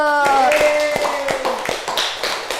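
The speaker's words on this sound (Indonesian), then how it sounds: "Oke, tepuk tangan dulu." Classroom of students clapping hands during a microteaching lesson, a handful of sharp, spaced claps following a voice that drops off at the start, close and moderately loud.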